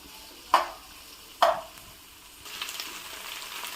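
Cauliflower pieces frying in hot oil for a cauliflower pickle, with two sharp stirring clacks early on over a faint background sizzle that swells into a louder, steady hiss near the end.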